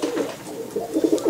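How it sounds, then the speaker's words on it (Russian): Pigeons cooing close by, soft throaty rolling calls repeating in short bursts, with no one talking. "От Барри все голуби на меня сбежали"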